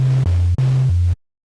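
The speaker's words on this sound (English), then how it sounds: "Almost sounds like a bit crushed white noise. It's a bit crunchier than usual." A synth's ARP analog noise layer plays as crunchy, bit-crushed white noise, loud and close, in two notes that each step down in pitch, then stop abruptly into silence.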